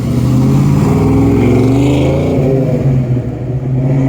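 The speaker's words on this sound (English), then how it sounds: "that's a loud car." A loud car roars past on Spring Garden Road in downtown Halifax, its engine note rising and then falling as it passes close by, with steady street noise underneath and no talking.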